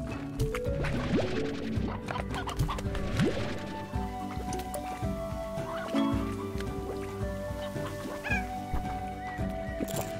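Chickens cluck continuously in the video game Slime Rancher, a busy layered flock close by with steady background music, no speech over it.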